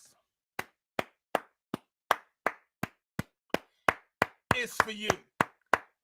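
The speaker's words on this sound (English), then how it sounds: "But this applause is for you." Loud, evenly spaced single claps beat out a slow steady rhythm close by, about a dozen in all, with a short burst of speech breaking in near the end.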